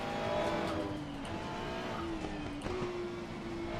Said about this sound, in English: I did not mean to downshift at first, but we're gonna roll with it